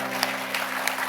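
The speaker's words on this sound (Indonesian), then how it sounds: "Tepuk tangan dong." Scattered hand clapping from an audience, a few sharper claps standing out over a steady hum in a brief burst.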